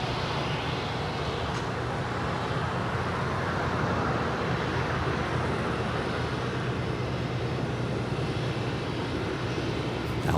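A DHL Kalitta Air Boeing 747-400 arrives at LAX from Anchorage, giving a steady, broad jet roar that holds at an even level for about ten seconds, heard from a distance.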